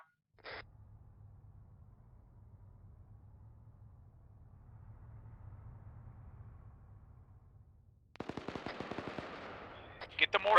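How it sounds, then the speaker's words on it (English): Mortar rounds come down in the military game Arma: a lone early thump, then a low steady rumble, then a dense run of loud, sharp blasts packed close together near the end. "Dropping mortars on that possible mortar location at 0 5 4 5 red 4 marker"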